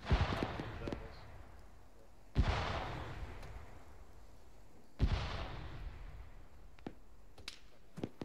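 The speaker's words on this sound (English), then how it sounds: "Sounds like a marksman to the west." Distant marksman rifle shots ring out from woods to the west: three sharp, echoing cracks spaced a few seconds apart, faint and reverberant, with a few softer taps between them.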